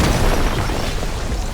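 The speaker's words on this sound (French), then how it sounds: "mes grenades, elles ont explosé" Grenade explosions in Fortnite make loud, dense booming blasts that fill the short moment, continuous and heavy with no voices over them.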